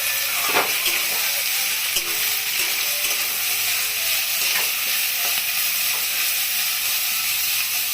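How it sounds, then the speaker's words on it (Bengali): Tomato, cabbage and peas sizzle and crackle in a hot pan as they are stir-fried for veg chowmein, a steady close frying hiss with occasional scrapes of a spatula, no talking. "তাহলে টমেটো বাঁধাকপি এগুলো দিয়ে একটুই নাড়াচাড়া করব"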